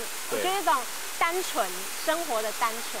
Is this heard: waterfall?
yes